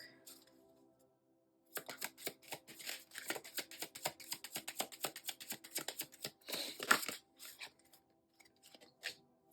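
Twin Flame Journey Oracle cards shuffled by hand, a rapid run of crisp riffling flicks up close, pausing briefly before a few final slaps of the deck.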